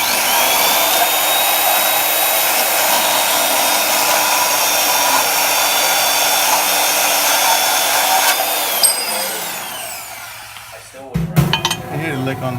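A power sander whines loudly and continuously while cleaning up the edge of a Jeep part, then winds down near the end, followed by a few clanks as the part is handled.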